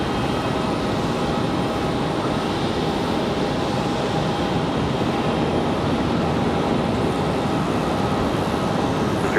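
A jet airliner inbound from Los Angeles at Raleigh Durham airport roars in a steady, loud broadband rumble with a faint whine, continuous throughout and without talk.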